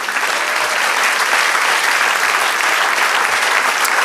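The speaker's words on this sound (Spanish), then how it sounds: "Den un aplauso al Señor." A church congregation applauds during a service, a dense, steady wash of clapping from many hands that stays loud and even for the whole stretch, with no voices standing out.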